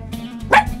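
A single short, loud puppy bark or yip at close range, lasting well under a second.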